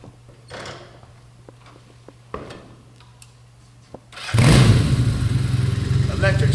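Restored original 1976 Kawasaki KZ400 Deluxe motorcycle fired by its electric starter, with a few clicks and a brief crank before the engine catches and runs at a loud, steady idle close by.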